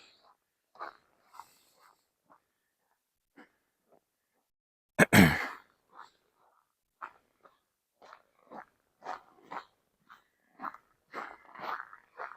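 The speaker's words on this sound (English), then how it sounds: "Probably breathing harder because it's harder to breathe through the scarf too." Heavy, irregular breaths muffled through a scarf while walking downtown in Regina in extreme cold of about -24 C, with one loud rustling gust midway and quicker breathing toward the end.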